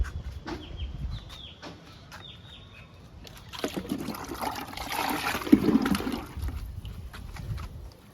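Lemon-based liquid fertilizer pours onto potted plants, a trickling, splashing flow that swells in the middle and then tapers off, close by, with faint outdoor bird calls in the background.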